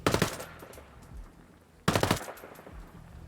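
Submachine gun fired in Ghost Recon Breakpoint, two short rapid bursts of about five shots each, close and loud, separated by a pause with fading echo.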